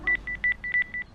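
A phone number is dialed as a rapid run of about eight touch-tone beeps, evenly spaced and crisp. There is no talking.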